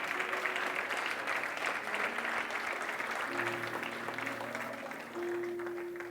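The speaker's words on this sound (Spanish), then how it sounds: "Den un fuerte aplauso al Señor." A church congregation claps for the Lord during a worship service, a steady wash of applause lasting several seconds with faint tonal hum and voices murmuring underneath.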